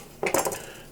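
Metal cutlery scraping and clinking against a plate while cutting into a chicken parmesan served with spaghetti, a short close cluster of clatters and scrapes with no talking.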